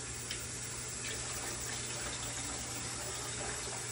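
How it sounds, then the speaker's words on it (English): Rice rinsed under running water, heard as a steady, fairly quiet rush and splash of water from start to finish, with no talk. "The reason you're rinsing your rice, you're getting all the dirt out, because this rice have been in the field."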